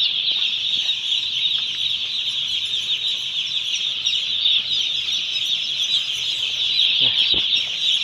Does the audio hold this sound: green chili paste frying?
no